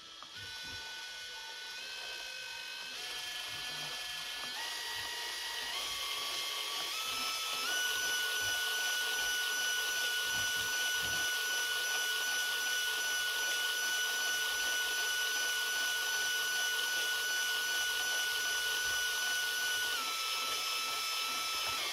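A Cada micro motor whirring near and alone, its whine stepping up in pitch over the first several seconds, then holding one steady high tone before shifting again near the end.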